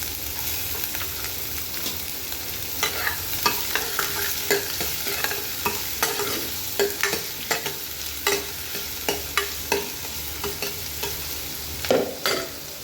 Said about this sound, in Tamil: இப்போ நம்ம பொடிசாக கட் பண்ணி வச்சுருக்க ஆனியனையும் சேர்த்துக்க போகிறோம். வெங்காயம் கொஞ்சம் நல்லா வசங்கி வரணும்.